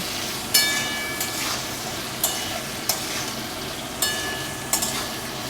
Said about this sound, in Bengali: আমি আলুটা কিন্তু ভালোভাবে ভেজে নেব।